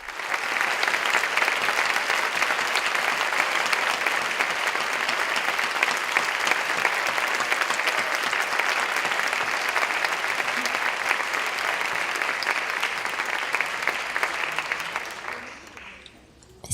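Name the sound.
audience applauding intensely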